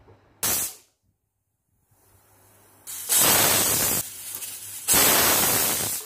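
A pressure cooker of lapsi on a medium gas flame releases steam: one short hissing burst, a pause, then two long, loud, rushing blasts of steam close by.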